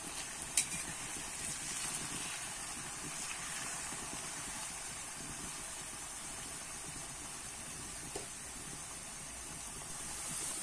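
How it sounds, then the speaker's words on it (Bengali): Shredded potatoes frying in a pan give a steady, even sizzle throughout, with a couple of faint clinks from stirring. "এবারে আমি একটু নেড়ে দেবো।"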